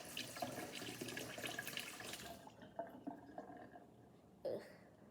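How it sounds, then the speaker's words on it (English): A drinking straw rinsed under a running kitchen tap, with a steady close splash of water for a couple of seconds, then the flow stops, leaving faint drips and a short clatter. "And now I'm going to wash my straw."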